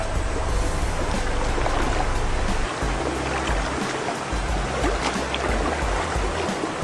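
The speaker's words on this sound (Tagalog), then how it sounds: "Tapos medyo malakas pa yung agos." Strong river current rushing over rocks on a rugged trail near a cave and falls, a loud, steady broadband roar of flowing water filling the whole clip, close by and unbroken, with no talk over it.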